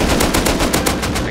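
Rapid automatic gunfire in the Rust survival game, a loud, dense burst of shots with about eight evenly spaced cracks standing out over a second, with no voices.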